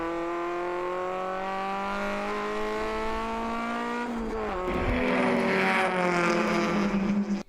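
A ChampCar endurance race car at Road America powers out of a corner, its engine note climbing steadily before a brief shift dip and renewed high revving, loud and continuous with a slight roar as it passes.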